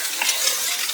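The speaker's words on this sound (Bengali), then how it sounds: "নাড়তে থাকতে হবে ভালো করে এবার মশলাটা" Masala stirred in a frying pan while cooking chicken dum biryani: a steady, close sizzle with soft scraping from the stirring, continuous through the short moment with no voices.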